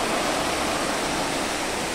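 Water streams down from above inside the dry plant house greenhouse at Hong Kong Park, a steady full broadband rush like a small waterfall, continuous and close, with no voices.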